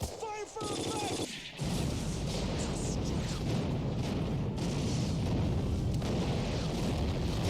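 Wartime artillery and airstrike explosions form a dense, continuous rumble of blasts and gunfire, with a brief quieter break near the start before the barrage resumes loud and unbroken.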